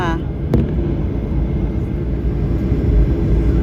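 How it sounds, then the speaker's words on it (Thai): Steady airplane cabin rumble from an aircraft that has just landed at night, a broad continuous engine and air noise filling the whole stretch at a constant loud level, with a brief click near the start. "เครื่องบินก็ถึงแล้ว สองทุ่ม พอดีเลยค่ะ"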